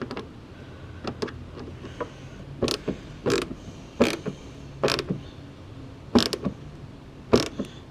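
Mud flap bolts are tightened back down with a ratchet or wrench, giving a string of close, sharp clicks and creaks in irregular bursts over a quiet background.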